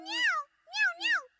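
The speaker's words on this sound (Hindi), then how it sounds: "अच्छा, तो वो आपकी बिल्ली है?" A cartoon cat meows three times, one longer call followed by two quicker ones, clear and close.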